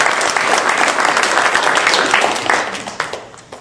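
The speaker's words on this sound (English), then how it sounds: "So please give yourselves a round of applause" An audience at a university library's annual State of the Library address breaks into dense, loud applause that holds steady for a few seconds before thinning out toward the end.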